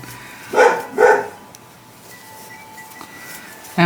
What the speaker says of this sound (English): Scarlett is my protector, so she's going to bark until she thinks the mail lady is all gone.